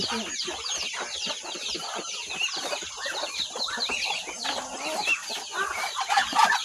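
A flock of chickens mixed in with ducks on a farm, clucking busily and continuously close by, with overlapping chatter and occasional louder squawks.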